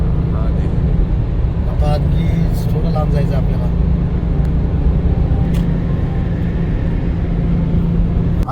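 Road traffic in Sharjah heard from inside a moving vehicle, with a loud steady engine and road rumble throughout and someone talking over it.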